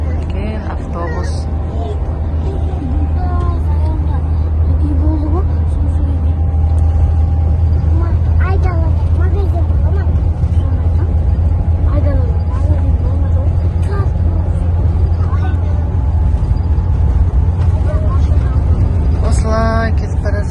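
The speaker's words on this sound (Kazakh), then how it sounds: "Осындай үлкен автобус." A large bus drives along a road, its low engine rumble and road noise loud and constant inside the vehicle, while people talk and murmur over it throughout.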